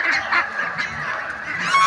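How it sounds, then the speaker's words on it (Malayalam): A flock of ducks beside the water calls with loud, honking quacks, a busy overlapping chorus that continues for about two seconds with no voices. "ചെല്ലിനോട് തന്നെ കുറേ താറാവുകളും വെള്ളവും സൗകര്യമൊക്കെയാണ് കാണാനുള്ളത്"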